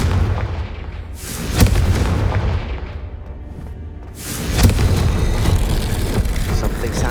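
Confringo blasting-spell explosions in the Hogwarts Legacy video game: two heavy, booming blasts about three seconds apart, each with a crackling tail, over a continuous rumbling battle din.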